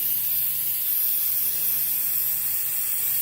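Brake cleaner sprayed onto exposed engine cylinders during a Miata head gasket job: a steady, loud, unbroken aerosol hiss that fills the whole stretch without pause.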